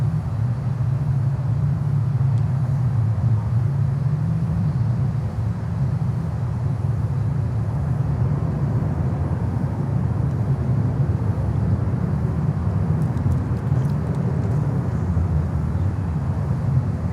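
DHL Boeing 767 cargo plane at Miami airport: a steady, loud jet rumble that holds throughout, heavy in the low end, with no voices.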